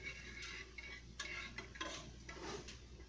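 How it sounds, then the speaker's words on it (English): Spoon stirring mac and cheese sauce in a pot, faint soft scrapes and light clinks against the pan, several short strokes in a loose rhythm, quiet and close with no talking. "I'm going to stir that."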